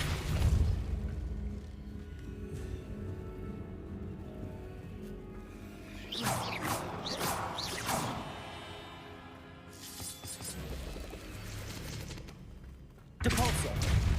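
Force spell effects in Hogwarts Legacy as Depulso is cast: a series of whooshing, thumping bursts in quick succession mid-clip and another sharp burst near the end, over a low rumbling game background, with a voice speaking at times.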